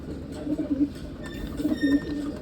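A Madrasi pigeon coos twice close by, each a soft, low, rolling burst about half a second long, with a brief pause between them.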